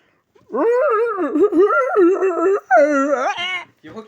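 A dog in the Minecraft video game lets out a long, high, wavering whine that slides in pitch for about three seconds, then gives a short yelp, loud and close, with no talking over it.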